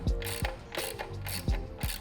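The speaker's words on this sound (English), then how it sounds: "we'll tighten that with a 3mm hex and an 8mm wrench on the inside" A nut on an electric bike's rear rack is tightened with an 8mm wrench and a 3mm hex key, giving short bursts of crisp ratcheting clicks that repeat about five times in quick, uneven strokes, close up.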